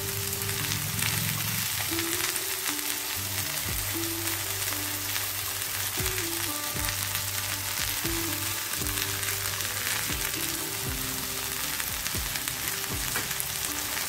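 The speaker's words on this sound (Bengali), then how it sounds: "এবার এটাকে উল্টে পাল্টে আস্তে আস্তে ভেজে নিতে হবে।" Tandoori chicken brushed with ghee fries in a kadai on a gas stove and is turned over, giving a steady close sizzle with occasional scrapes and clatters of the pieces being moved.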